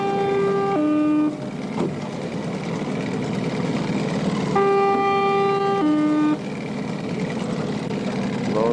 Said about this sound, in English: Hear the foghorn in the background there.